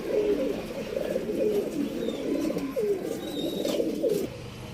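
Tournament pigeons coo in a low, repeated murmur close by, with a few faint chirps above them, until the cooing stops just before the end.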